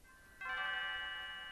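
Leene's bell rings in the Chrono Trigger video game, a bright chiming tone that strikes suddenly and rings on steadily, sustained and clear with no talk over it.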